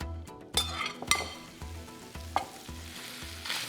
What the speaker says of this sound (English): Okay, and in go the onions.